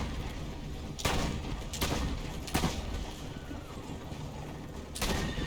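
Heavy gunfire from a machine gun in the Assassin's Creed Brotherhood video game: a few booming shots spaced about a second apart, standing out over a steady wash of background game noise.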